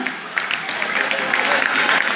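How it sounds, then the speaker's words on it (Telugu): Lively applause from a school audience during prize announcements at a National Voters Day program, a dense, close patter of clapping mixed with crowd noise and some talk. "గట్టిగా చప్పట్లు"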